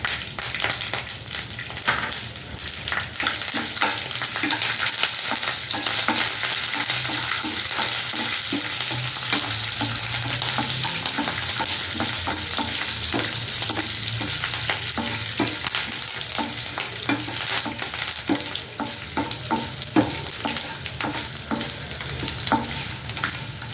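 Coriander seeds, dried red chilies, curry leaves, garlic, urad dal, mustard seeds and cumin fry in hot oil, a steady nearby sizzle with repeated scraping and stirring strokes throughout and no talking.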